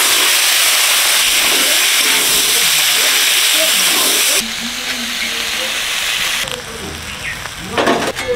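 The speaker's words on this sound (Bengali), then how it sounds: "কাতলা মাছ ভাজার তেলে চিংড়ি মাছটা ভেজে নিচ্ছি।" Prawns fry in hot oil left over from frying catla fish, a loud, dense hiss of sizzling that drops in level partway through, then crackles unevenly.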